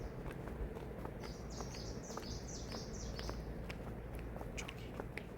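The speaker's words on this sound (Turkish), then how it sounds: "Bak, kuş seslerini duyuyor musun?" Faint birdsong in Trabzon, Turkey, a short run of repeated high chirps, over quiet outdoor background noise with a few soft clicks.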